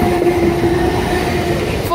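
Class 455 trains 868 and 741 bound for London Waterloo pass the Summer Road level crossing at Hampton Court, a loud, steady rumble and hum of rail traffic filling the short stretch.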